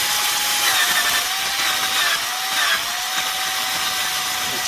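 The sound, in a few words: high-speed drill grinding a metal pants snap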